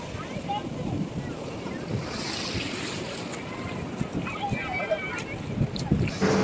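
Ocean surf breaking on Puri beach, a steady broad roar of waves with gusts of wind against the microphone and occasional faint voices along the shore.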